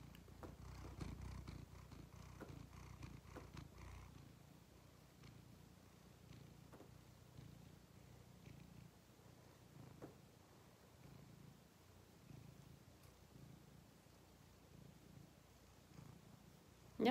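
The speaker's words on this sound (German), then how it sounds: "Ja, er schnurrt" A quiet, low rumbling purr from a cat close by, steady and soft, stronger at the start, with a brief knock at the end.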